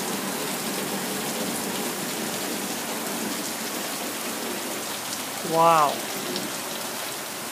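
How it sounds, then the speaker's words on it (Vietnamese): Heavy rain pours down steadily outdoors over a grassy yard, a dense, even hiss that fills the whole span, with one brief voiced exclamation partway through. "xin cảm ơn ông trời cho một cái trận mưa rất là to, khỏi tưới cỏ"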